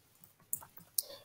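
Two crisp computer mouse clicks, about half a second apart, sound close and fairly soft while contacts are added in the WebEx Teams desktop app, with faint room noise between them.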